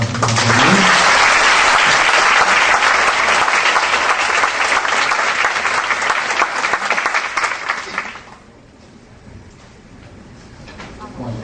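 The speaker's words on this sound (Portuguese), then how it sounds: "vamos receber uma salva de palmas" Audience at an evening honors ceremony for an emeritus law professor applauds in a loud, dense burst of clapping lasting about eight seconds, then fades to quieter room sound and scattered claps.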